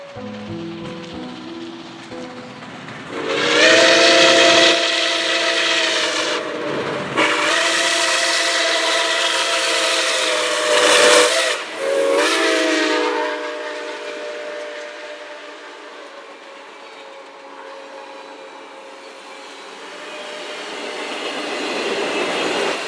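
Milwaukee Road 261 steam locomotive roars past through Cambridge, Minnesota, with a loud, drawn-out whistle blown several times, then the rumble fades before swelling again slightly.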